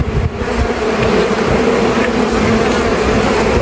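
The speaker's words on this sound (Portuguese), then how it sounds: "vou fazer um pouco das abelhas descer" Honey bees buzz in a dense, steady drone as they are shaken and coaxed off a hive frame during a transfer between boxes, the loud swarm hum continuous and close with no talking.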